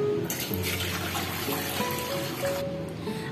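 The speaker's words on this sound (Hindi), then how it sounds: "मैंने एक बड़ा सा पतीला लिया है जिसके अंदर मैंने 2 लीटर पानी" Water is poured into a large cooking pot, about two litres, giving a steady splashing trickle that runs continuously and close by, with a rising tone as the pot fills.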